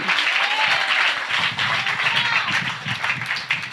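A crowd claps steadily and loudly throughout at a church service, a dense, continuous wash of applause with no pauses.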